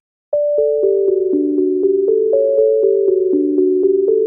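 A pure, smooth sine-wave synth tone plays a short stepping melody of plucky notes in an even rhythm, clean and close, with nothing else underneath.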